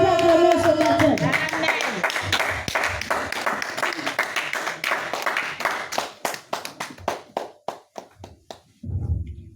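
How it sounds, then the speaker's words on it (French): A church congregation at a praise and worship service bursts into cheering and applause, a dense roar that thins into scattered, separate claps before a brief swell of voices at the end. "Bien-aimé, ton acclamation est faible."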